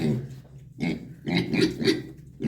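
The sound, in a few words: pig squealing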